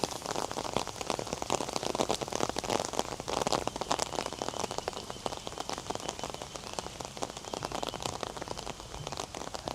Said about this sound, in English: This is kind of nice actually that it's raining.